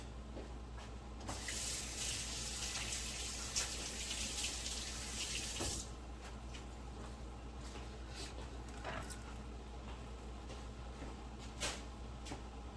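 Hands washed under a running kitchen tap, a steady close rush of water for about five seconds that cuts off, followed by quieter handling clicks and light movement with no talk.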